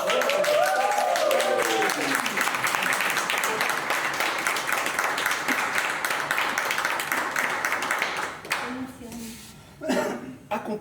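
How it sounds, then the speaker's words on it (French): Crowd applause for a singer at a talent show during a yoga therapy training gathering, sustained clapping with scattered voices that thins and breaks into sparse claps and talk near the end. "Merci d'applaudir"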